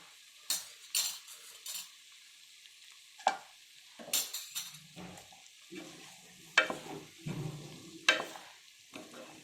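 Coriander and cumin powder being stirred into a frying cauliflower and cashew curry: repeated scraping strokes of a spoon in the pan over a quiet sizzle, close and uneven in rhythm, with no voices.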